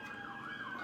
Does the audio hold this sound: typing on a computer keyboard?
no